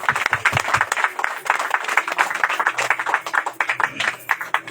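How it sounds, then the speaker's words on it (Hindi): Scattered clapping from a congregation at a Hindi Christian sermon, uneven claps of varying strength rising and falling, with a low hum underneath. "ताली बजाएंगे"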